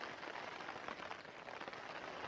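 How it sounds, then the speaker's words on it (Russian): Rain falls steadily outdoors on a hiking trip in the mountain lakes region, a faint, even hiss of drops pattering on surfaces with no voices over it. "Как слышите, мы под дождем."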